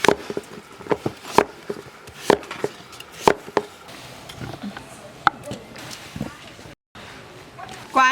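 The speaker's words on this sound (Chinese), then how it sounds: "把南瓜剁碎蒸熟" A cleaver chops a large pumpkin into small pieces on a board for steaming, giving sharp, close, irregular thuds and knocks with short pauses between strikes.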